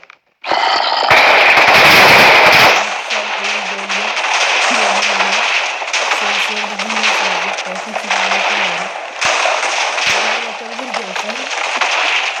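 Massive chain of TNT explosions in Minecraft Pocket Edition, set off around a player-built TNT house of about 1,550 blocks: a loud, dense, continuous rumbling barrage of blasts that roars for the whole stretch, with a low droning tone running beneath it.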